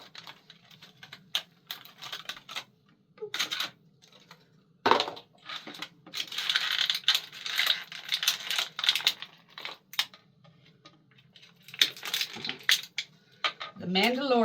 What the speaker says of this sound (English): By unboxing, I meant watch me rip stuff open.